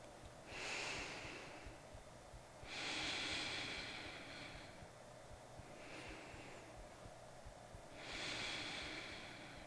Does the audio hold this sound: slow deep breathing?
yes